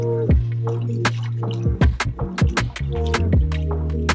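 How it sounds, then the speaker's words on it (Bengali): Neem leaves squeezed by hand in water produce wet squelches and drippy splashes in an irregular rhythm, close by, over a steady low background hum. "জলের মধ্যে দিয়ে নিম পাতাগুলো ভালো করে একটু চটকাও"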